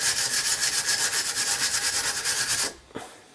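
A wire brush scrubs the brake hub of a 2009 petrol Suzuki Alto in fast, rhythmic back-and-forth strokes, close and harsh, then stops abruptly, leaving a single faint knock.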